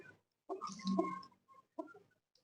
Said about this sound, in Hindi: ये नई मुर्गी देखो कैसी लग रही है आपको